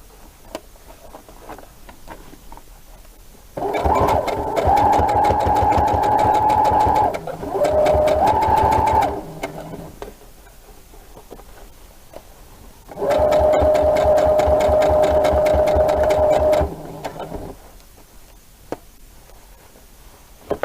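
A sewing machine stitches a t-shirt being made into a dress, running in two long loud bursts of steady rapid stitching with a short pause in the middle and quiet handling between them.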